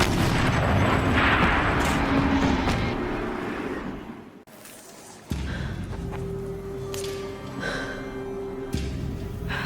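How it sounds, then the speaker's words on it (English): Tank turret cannon firing in a Horizon Zero Dawn cinematic, a heavy rumbling blast that fades into quiet before a sudden loud boom and a lingering low roar. "Rotate turret! And fire!"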